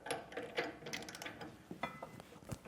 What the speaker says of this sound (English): You can just use an 1 1/8" socket.